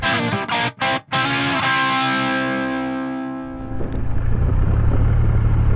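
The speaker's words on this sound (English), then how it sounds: "Right now I am riding the bike, the Rocket 3 GT." A Triumph Rocket 3 GT motorcycle rides on new Metzeler ME888 Marathon tires, a loud droning engine note that shifts and drops with a few brief cutouts, then gives way to steady, rushing road and wind noise.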